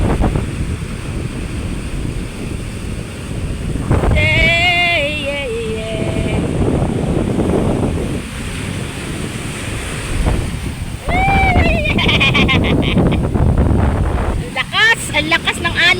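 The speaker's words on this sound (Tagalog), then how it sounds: "Ang lakas ng alon." Strong ocean waves crash and surge under heavy wind buffeting the microphone, making a loud, continuous roar. A person talks in bursts over the noise.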